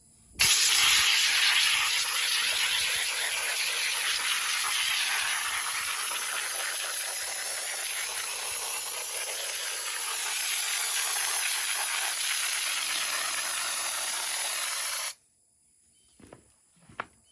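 Spray foam hisses continuously for about fifteen seconds as it is applied to a solar kiln, loud and close, then cuts off abruptly, leaving near silence with a few faint knocks.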